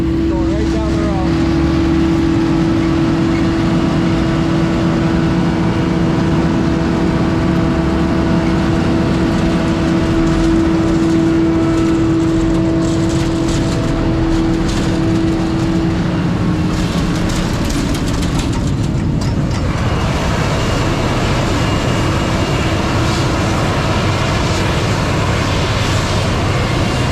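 Two Krone 1100 forage choppers, one carrying a 10-row corn head, roar past on a road with a loud, steady engine drone and a whining tone that shifts as they pass, with people talking over it.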